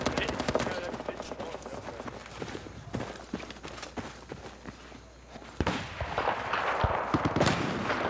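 Gunfire in a shooter video game: sharp, irregular shots and impact cracks, some in quick bursts, with busy game noise and talking in between.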